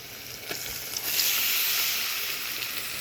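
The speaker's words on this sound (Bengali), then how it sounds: "মশলা কষানো শেষ, এখন আমরা দিয়ে দিব নুডলস" Noodles go into a pan of frying spice mixture, and a steady hissing sizzle swells about a second in, then holds loud and close with no talking.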